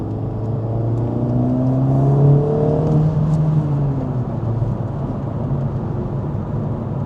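An Acura Integra Type S (DE5) with its stock OEM air filter pulls in third gear, engine note rising steadily over about three seconds and then settling into a steady hum of cabin and road noise, fairly subdued.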